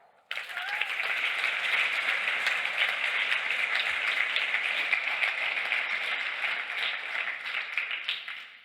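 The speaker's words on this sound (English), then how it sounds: "So, round of applause for Merlijn." An audience at a tech conference bursts into applause that swells quickly and holds as a dense, even wash of clapping for several seconds before tapering slightly.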